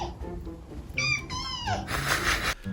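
A pet cat meows several times in quick succession at close range, short rising and falling cries followed by a longer, harsher yowl, over a quiet indoor background.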